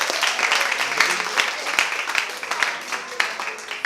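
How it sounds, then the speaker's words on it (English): At a youth conference event in Barbados, an audience claps in a sustained, fairly loud round of applause with scattered sharp individual claps, while voices carry on underneath. "An applause for Girls of a Feather for putting on this event."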